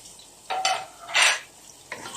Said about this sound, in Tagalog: now the oil is hot. Put onion.